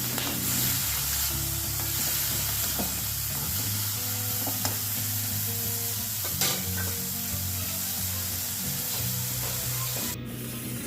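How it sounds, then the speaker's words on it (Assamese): Fish sizzles loudly in a wok with hot oil, spices and onion in one continuous crackling hiss, broken by scraping stirs and a few sharp knocks, with a brief dip near the end. "এইবাৰ মাছ যোগ কৰি দি এইখিনি এতিয়া ভালদৰে অলপ টাইম ভাজি ল'ম।"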